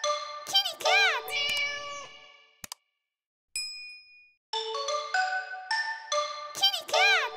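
A cartoon cat meows several times in bright, sliding calls, mixed with chiming ding tones and a brief quiet gap in the middle of the clip.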